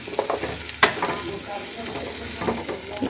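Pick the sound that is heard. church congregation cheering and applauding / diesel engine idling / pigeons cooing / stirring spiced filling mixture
stirring spiced filling mixture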